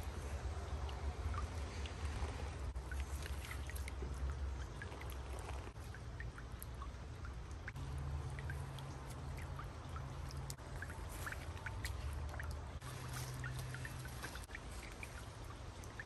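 Water pouring and splashing steadily while a bucketful of items for a DIY three-level fountain pond is rinsed clean, a continuous broadband wash with scattered drips and splashes throughout, no talking.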